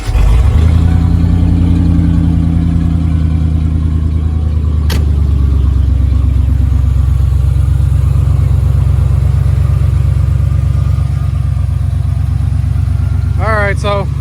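A Ford Flareside truck engine runs loudly while warming up, a steady close low rumble throughout with a brief clatter partway, and a voice is faintly heard near the end.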